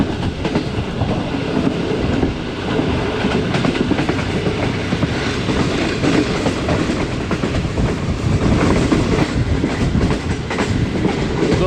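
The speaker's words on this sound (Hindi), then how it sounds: "14 डाउन अवाम एक्सप्रेस अटक शहर में दाखिल हो रही है" The 14 Down Awam Express, a new rake running from Peshawar to Rawalpindi, rolls into Attock city with a loud, continuous rumble of wheels on rails and a steady clickety-clack close by throughout.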